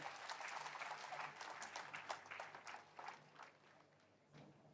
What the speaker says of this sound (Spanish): Vamos a aplaudir a Jesucristo una vez más.